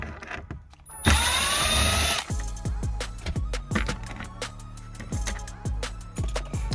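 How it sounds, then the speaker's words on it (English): A power driver whirs for about a second while backing out two T20 Torx screws from the dash of a 2018 Dodge Ram. Close, sharp clicks and light knocks of the trim and screws follow in an irregular pattern. "you're going to have two T20 torque screws right here at the top. So we're going to go ahead and take those out real quick."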